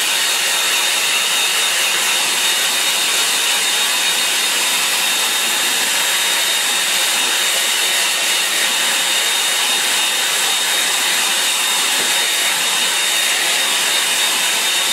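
A hair dryer dries a painting with a loud, unbroken rushing hiss that holds steady and close throughout, with no voices over it.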